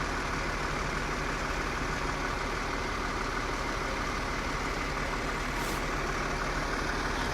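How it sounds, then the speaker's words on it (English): A fire truck idles at the scene of a fatal fire in Montgomery, Western Massachusetts, giving a steady, loud, unbroken engine rumble very close by with no talking. "I'm standing right next to a fire truck"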